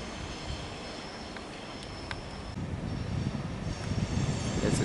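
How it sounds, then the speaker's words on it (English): Suburban train rolling past East Richmond station in Melbourne, a steady broad rumble heard from the platform that swells slightly louder in the second half, with no voices. "There's a train passing"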